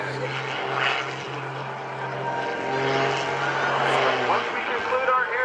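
A propeller aerobatic airplane flown at an Air National Guard open house airshow in Rhode Island drones steadily throughout, a continuous engine and prop hum from mid distance while someone talks over it.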